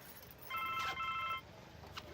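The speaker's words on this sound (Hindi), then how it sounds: "जी फोन लेके आए हैं कि नहीं? बज रहा है।" A short electronic phone ring trills once for about a second over low background hum, fairly faint and without speech.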